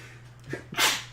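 A single sharp sneeze bursts out, preceded by a short inhaling breath, close and loud against a faint steady hum.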